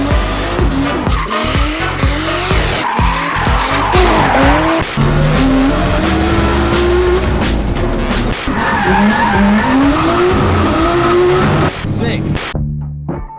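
A Nissan Laurel drift car with an RB30DET Skyline engine and a screamer pipe rips past nearby, its engine revving and wailing over long, loud tyre squeals. Spectators shout and talk over the noise.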